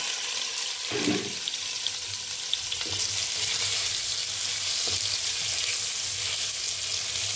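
Amla pieces fry in a little oil with black cumin in a kadai, a steady broadband sizzle with a burst as they drop in around the first second, then continuous close frying with faint scrapes.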